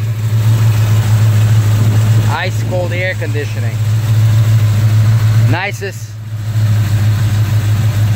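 A 1968 Plymouth Roadrunner clone's 440 big block idles in a deep, steady loud rumble throughout, while someone talks briefly over it twice.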